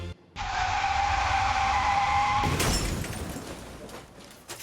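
A car skids with a long, loud tire screech and then crashes with a noisy smash and rattling debris as a sound effect at a road safety display at Crufts 2017.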